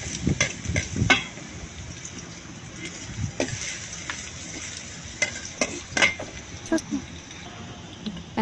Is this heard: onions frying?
yes